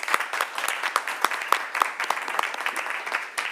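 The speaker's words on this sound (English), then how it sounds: "you deserve a round of applause" Applause breaks out at a board meeting, a modest crowd clapping in quick, uneven claps that stay moderately faint and steady for a few seconds without speech.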